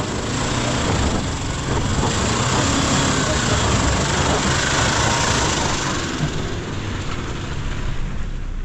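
A 2025 Mitsubishi Triton GLX ute's engine drones steadily and loudly under load while its wheels spin climbing a dirt hill off road, a constant close mechanical roar throughout.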